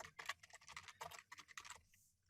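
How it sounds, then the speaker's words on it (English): Quick, light keystrokes patter on a computer keyboard in a short burst of typing, quiet and close, with no voices. "So I'll type active sheet"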